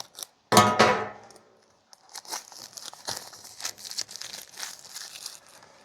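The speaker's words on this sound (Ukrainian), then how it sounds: "Відкриваю пакування." Plastic and paper packaging of a NexTool Black Knight multitool being opened by hand, a sharp tearing crinkle up front followed by a run of lighter rustles, clicks and crinkles close by, with no talking.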